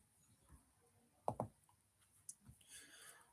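Computer mouse clicks while charting stock prices: two sharp, close clicks in quick succession near the middle, then a few fainter taps, with quiet room noise and no talk.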